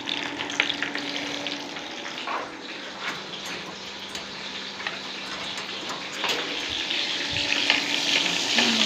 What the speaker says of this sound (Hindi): बन रहा है, प्याज तल रहा है।